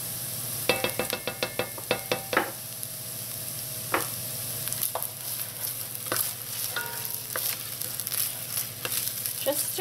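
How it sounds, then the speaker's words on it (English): Tomato paste is stirred into onions and carrots frying in a pan: a steady sizzle runs underneath while a spoon clacks and scrapes close by, with quick tapping strokes at first and then slower, spaced strokes. "When your onions and carrots are nice and tender, you're going to add in your tomato paste."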